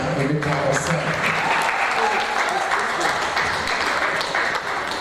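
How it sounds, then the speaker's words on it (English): A seminar audience breaks into sustained, loud applause for Mr. Emeka Osai, a thick continuous patter of clapping with some voices murmuring underneath. "can you give a round of applause to Mr. Emeka Osai?"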